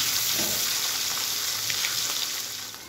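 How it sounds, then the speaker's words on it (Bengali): Eggs dropped into hot oil in a wok sizzle and fry with a steady, loud crackling hiss, a few soft clicks rising from the pan throughout. "এবারে আমি একে একে ডিমগুলো এতে ছেড়ে দেব।"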